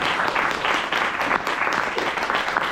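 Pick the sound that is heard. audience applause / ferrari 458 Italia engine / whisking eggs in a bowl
audience applause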